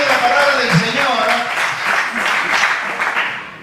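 A church congregation applauds during a Christian sermon, broadband clapping rising and falling across the room while voices talk and call out over it.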